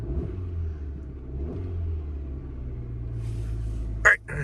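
Car engine, its timing belt of unknown age, rumbles steadily under the hood with a mild swell as gas is given, ending in a short sharp burst near the end.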